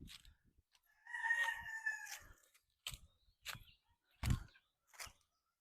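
A banded stag rooster crows once in a long, strained call, followed by several short, sharp clucks and squawks spaced apart, fairly close and alone in a quiet setting.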